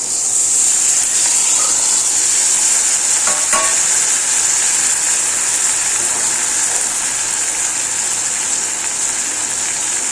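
Tamarind water poured into a pan of sizzling green chilli pickle, a steady loud frying hiss running throughout with a brief splash of liquid near the middle, no talking.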